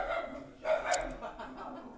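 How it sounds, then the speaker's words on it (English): A small dog lets out a short, muffled bark or yip in the background, brief and moderately faint against room noise. "Oh, that little dog is barking."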